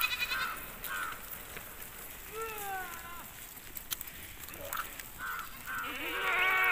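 A flock of Himalayan sheep approaches on a mountain pasture, giving scattered bleats near and far over a faint outdoor background.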